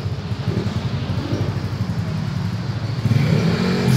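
A CFMOTO Voom 500SR motorcycle with a six-speed gearbox idles and revs close by, a steady pulsing engine note that swells louder near the end.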